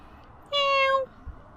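A single clear cat meow, close and fairly loud, about half a second long, outdoors in Dutch woods, with quiet background before and after.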